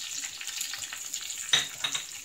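Chopped onions, green chillies and curry leaves frying in a pan while being stirred, a soft steady sizzle with a couple of sharper scrapes near the end.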